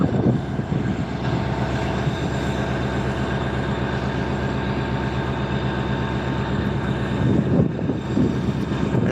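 Diesel locomotives spool up in a rail yard in Stevens Point, Wisconsin, making a loud, steady engine rumble with a sustained droning hum that holds level throughout and swells slightly near the end.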